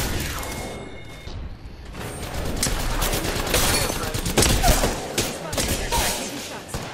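Apex Legends firefight, with loud bursts of rapid gunfire and mechanical clatter lasting several seconds, close and intense.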